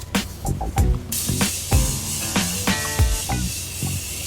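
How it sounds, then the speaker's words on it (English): Morphe setting spray is spritzed in a few short, close hissing bursts between soft rustles and handling noises during a makeup routine. "spritz ourselves with some Morphe setting spray"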